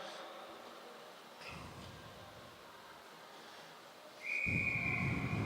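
A single sharp whistle blast signals the start of a junior scratch elimination race at a national track cycling championship, sounding clearly for about a second over the hum of a crowded velodrome.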